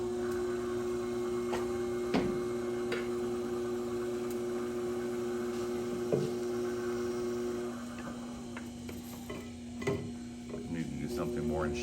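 A pottery wheel hums steadily while a trimming tool scrapes a clay lid, giving a constant motor drone punctuated by intermittent scraping ticks, close and moderately loud, with the drone dropping briefly near the end.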